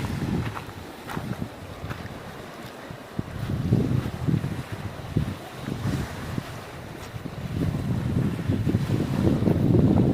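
Wind gusting on a beach, buffeting the microphone in rough low-pitched blasts that rise and fall over a faint wash of surf.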